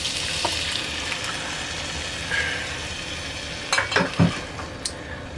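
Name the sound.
homemade spaghetti sauce simmering while stirred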